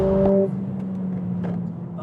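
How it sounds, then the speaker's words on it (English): Mercedes-AMG A45 S engine and intake noise piped into the cabin, heard as a steady low drone with a brief higher tonal whine at the start, moderately loud and alone. "pumping real noise from the engine and intakes into the car's cabin"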